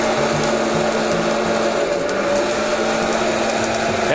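A Fresh Roast SR 500 coffee roaster blowing hot air over beans at second crack, a loud steady fan whir and hum with sparse faint crackles scattered over it.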